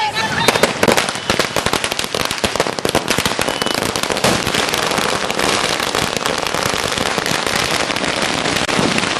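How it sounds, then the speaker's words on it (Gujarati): Firecrackers burst continuously at an outdoor political victory celebration near a town hall, a dense, loud crackling barrage of rapid pops lasting throughout, with voices mixed into the din. "ફટાકડા ફોડી એકબીજાના મોં મીઠા કરાવી વિજય ઉત્સવ મનાવ્યો"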